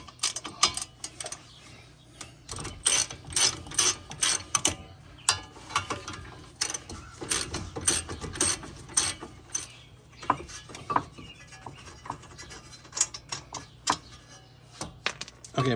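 A ratchet clicks in quick bursts while loosening the brake caliper bolts on a Chevy Sonic, close and crisp, with short pauses and metallic clinks between runs.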